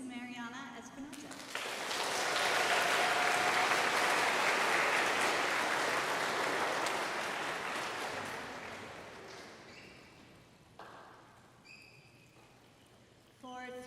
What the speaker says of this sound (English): We can applaud after each name.